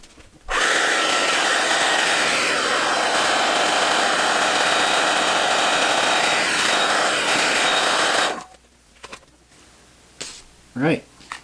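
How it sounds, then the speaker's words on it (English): A hairdryer blows hot air onto stain on a scale model, a loud, steady whooshing roar that runs for about eight seconds and then cuts off, leaving faint handling noises and a brief voice. "I can get the hairdryer and force dry it"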